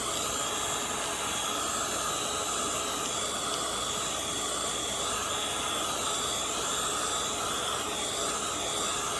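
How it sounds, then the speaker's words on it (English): A heat gun blows steadily to dry stamped kraft cardstock, a continuous loud rushing hiss that holds without a break from start to end, with no speech. "or you can heat gun it."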